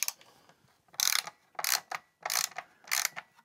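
A ratchet wrench clicks in four short, brisk bursts with brief quiet gaps between them, close up and alone, during work on a Speed RX car.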